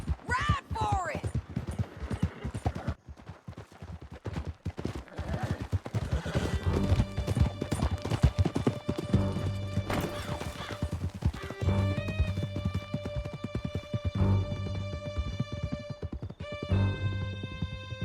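Horses gallop in the Red Dead Redemption video game with rapid, continuous clip-clop hoofbeats, close and steady, under swelling game music and voices.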